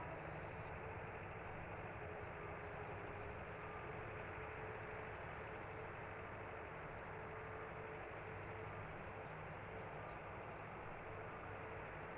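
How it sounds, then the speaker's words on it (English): Aircraft engines starting up at London Luton Airport, a steady broad low roar heard from a distance, continuous and even throughout with faint higher chirps above it. "More engine start up in the background"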